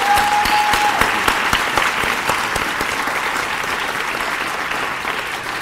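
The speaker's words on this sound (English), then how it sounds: "Please give him another round of applause" A crowd at a Bowie State University Founders Day ceremony applauds steadily in a dense, sustained round of clapping with scattered sharper claps, loud and continuous, fading only slightly toward the end.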